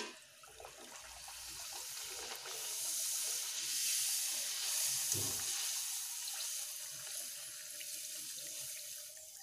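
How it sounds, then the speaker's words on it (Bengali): Luchi, puffed flatbread, deep-fry in hot oil over a low gas flame, giving a steady, soft sizzling hiss that swells slightly and holds without any talking. "গরম তেলে লুচিগুলো ছেড়ে দিয়েছি"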